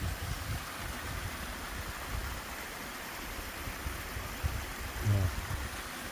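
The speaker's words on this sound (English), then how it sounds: "There's your waterfall right there." Steady broadband rush of a waterfall along the Pacific Crest Trail, a continuous distant roar with a soft low rumble and a brief thump near the end.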